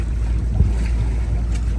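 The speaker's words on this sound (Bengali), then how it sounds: "কিনারে কি ঢেউ" Strong river waves rock a wooden boat on the Padma near the Jamuna confluence, a loud steady low rumble of water and wind buffeting against the hull, with occasional thumps and no talking.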